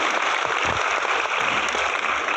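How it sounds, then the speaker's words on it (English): An audience applauding, a steady dense wash of clapping that fills the whole short stretch at even loudness, with no voices over it. "So can we give a resounding applause for that one?"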